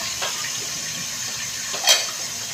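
Running water hisses steadily at moderate volume, with a brief louder splash near the end.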